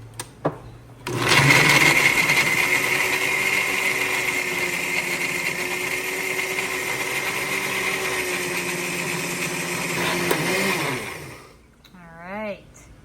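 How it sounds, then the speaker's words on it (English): A blender whirs steadily at high speed for about ten seconds blending fresh garlic and seasoning pepper, then winds down, with brief talk at the end. "freshly peeled garlic in this blender over here with some seasoning pepper that I have to blend up"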